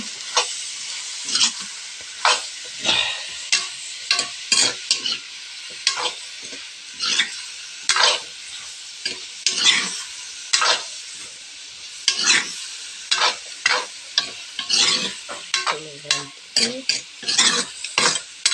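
Duck being stirred in a pan with vegetables such as potato and bamboo shoot, giving repeated scraping strokes over a steady sizzle, close and fairly loud, with no voices.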